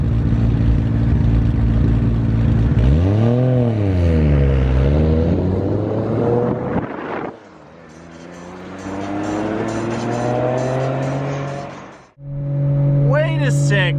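A Lexus IS200 daily car fitted with a widebody kit revs hard and drives off, its engine pitch swinging up and down in loud close sweeps with a brief drop between pulls, and people talk over it.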